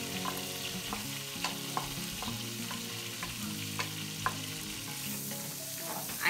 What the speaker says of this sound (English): So I'm gonna let these saute